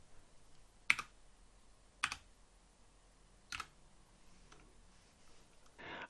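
Three or four sparse, separate clicks of computer keyboard keys being pressed during a search sound faint and close in an otherwise quiet room, ending with a brief soft rustle.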